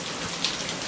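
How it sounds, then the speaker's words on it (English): Brief burst of steady outdoor rain, an even broadband hiss of falling drops, close and unbroken, no talking. "I love the rain."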